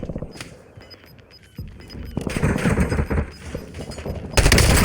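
Rapid automatic gunfire in the battle royale game Warzone, sparse shots early and then dense loud bursts of rattling fire closing in, ending in a sharp heavy volley.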